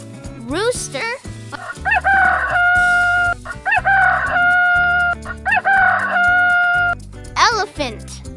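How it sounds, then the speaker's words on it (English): A rooster crows several times in a row, loud and close, each call a rising then falling cock-a-doodle-doo; a musical backing plays beneath. "Rooster."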